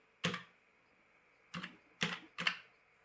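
Four crisp keystrokes on a computer keyboard while a captcha is entered, one isolated tap followed by a quick cluster of three, close and fairly quiet against a silent background.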